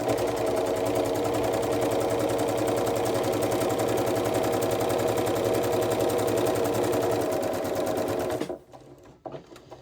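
A sewing machine runs steadily, stitching a diagonal bust or waist dart on a shift dress, with a rapid even needle rhythm close by for about eight seconds before stopping abruptly, followed by faint handling noises.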